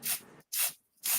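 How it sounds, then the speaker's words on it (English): Spray adhesive hisses from an aerosol can in three separate loud bursts, each about a third to half a second long with short silent gaps between them, recorded up close during a candle-decorating craft session. "God, I hate spray adhesive."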